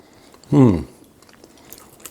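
A single crunchy bite into a hot, slightly burnt roasted chestnut, close and brief, followed by soft chewing and faint background noise.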